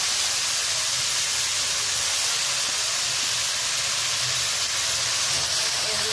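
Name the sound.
ingredients added to hot pan, sizzling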